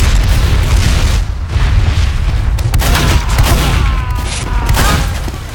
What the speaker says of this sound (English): I'm just gonna shoot him and shoot him for no reason other than boredom